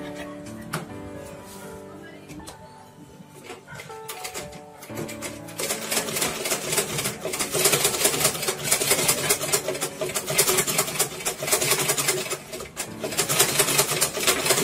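A sewing machine stitches fabric with a fast, dense mechanical clatter that starts after a quieter opening and runs loud and steady to the end.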